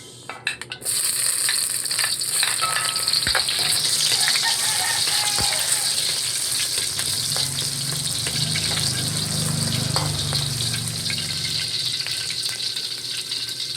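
Garlic sautéing in hot oil for a Visayan braised chicken dish, a steady loud sizzle and frying hiss with occasional stirring clinks and scrapes, continuous throughout after a brief start.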